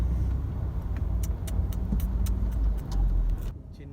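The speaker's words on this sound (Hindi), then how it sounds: "ये आपको दिखाते हैं जी ट्रैफिक की सूरत हाल" Street traffic in Oman, with a car engine rumbling steadily close by and a few light metallic clicks over the low hum, easing off near the end.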